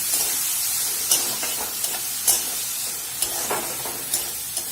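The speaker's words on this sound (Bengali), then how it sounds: "ভালো করে কষে নেব আমি এটাকে।" Chicken pieces stir-fried with salt and mixed spices for shawarma give a continuous close hiss and sizzle, broken by regular stirring scrapes about once a second.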